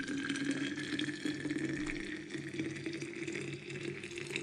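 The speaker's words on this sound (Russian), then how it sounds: "И все это заливаем кипятком." Boiling water is poured over green tea leaves and mandarin pieces, making a steady, faint stream of splashing and trickling that continues evenly throughout, with no one speaking.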